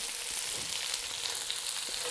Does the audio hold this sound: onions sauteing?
yes